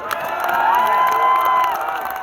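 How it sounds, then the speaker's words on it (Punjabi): An audience at a live Punjabi music show cheers and shouts in a loud, continuous swell of crowd noise. Applause is faint. "ਇੱਕ ਹਸ਼ਰ ਦੇ ਨਾਂ ਤੇ ਤਾੜੀ ਮਾਰ ਦਿਓ"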